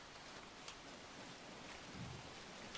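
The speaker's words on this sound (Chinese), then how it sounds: "还下雨了" Soft, steady rain falls in the video game Mini World as a faint, even hiss throughout, with no voices over it.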